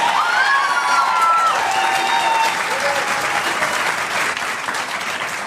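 A hockey arena crowd at a Pittsburgh Penguins game applauds steadily, with scattered cheers and whoops over dense, continuous clapping.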